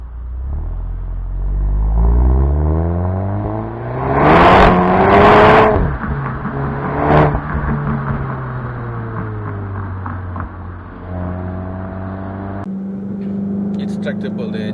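Volkswagen Golf GTI 7.5 engine pulling hard from inside the car, revs climbing in rising sweeps, briefly surging, then settling into a steady drone, with talk over it.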